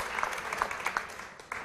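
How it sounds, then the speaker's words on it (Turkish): Short burst of applause in a Turkish television studio after a student's school-top announcement, a bright, steady patter of clapping with a few sharper accents, not very loud. "bir alkış o zaman"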